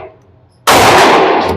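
A single loud, sharp gunshot from a Sig Sauer P365XL pistol cracks out after a moment of quiet, followed by a ringing decay.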